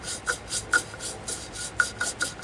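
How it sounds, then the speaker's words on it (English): Quick scrubbing strokes of a toothbrush rubbing sanding wax into wooden threads, rasping back and forth in an uneven rhythm, close and fairly quiet. "I'll rub a little bit of sanding wax in the threads"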